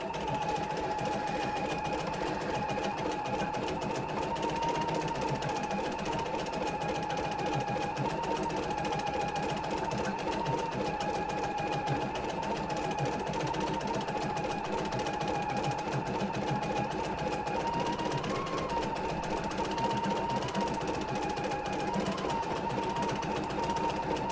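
An embroidery sewing machine stitches quilting stitches in ivory thread, a fast, even mechanical whirr and needle chatter running loud and continuous throughout.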